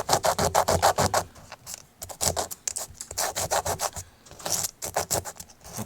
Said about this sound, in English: So we're going to just run them over with the sandpaper.